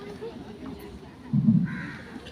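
A voice imitating a crow's caw during a Tamil speech, a brief nasal call in the middle set against his ongoing talk.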